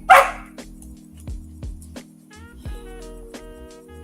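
A puppy barking for attention, a series of sharp yips and barks spaced about half a second apart, with whimpering tones between them, fairly close and loud with no talking.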